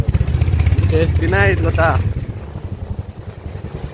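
A motorcycle ride through Kolar, Karnataka, with a passenger on the back: a steady, close engine drone mixed with wind rush throughout. Someone speaks briefly over it.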